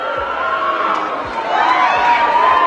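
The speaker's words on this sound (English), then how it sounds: "Keep booing, little girl" A large awards-show audience at the MTV VMAs boos Eminem, a dense, sustained crowd roar that swells louder in the second half with scattered shouts.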